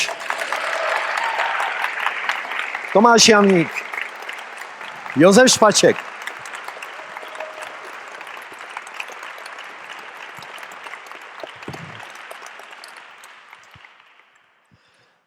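A small concert audience claps in welcome as musicians are introduced, a steady patter of applause running under an announcer who names performers twice, then fading out toward the end.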